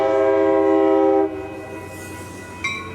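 A train passes on tracks right beside a building with its horn sounding. A loud, sustained multi-tone horn blast is cut off abruptly, and then the nearby train keeps rumbling steadily. A brief higher tone follows near the end.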